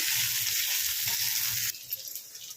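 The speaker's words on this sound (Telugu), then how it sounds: "ఉల్లిపాయ ముక్కలు అయితే మంచిగా వేయించుకోండి" Chopped onion and green chili pieces fry in oil in a pan, giving a steady, close, bright sizzle that drops in intensity partway through, with no one talking.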